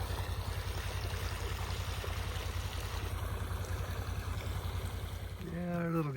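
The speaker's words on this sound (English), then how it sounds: "Always great to see it when this creek is flowing again." Creek water rushes through flood-control culverts after heavy rainfall, a steady close-up gurgling flow with a low rhythmic churn and a brief tonal sound near the end.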